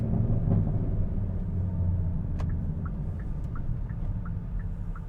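Turn signal of a modified Hyundai Elantra N ticking at a steady rhythm, about eight faint clicks over the low, constant rumble of the car's cabin.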